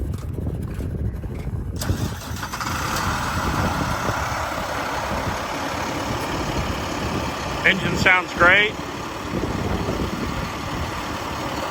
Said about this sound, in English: now we'll start it up and engage the PTO